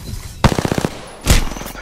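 Two loud, close bursts of rapid automatic gunfire from a shooter video game, the first a quick rattling string of shots and the second a shorter volley after a brief pause.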